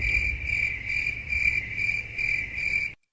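A crickets-chirping sound effect plays in a steady, high, pulsing trill, loud and continuous, then cuts off abruptly at the end, with no talk.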